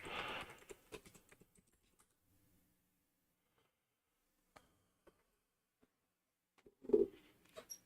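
Keystrokes on a computer keyboard entering a Linux terminal command, a quick burst of clicks at the start, a few sparse isolated taps, then another short cluster near the end, close and fairly quiet.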